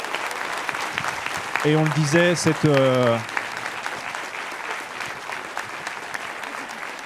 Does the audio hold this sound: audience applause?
yes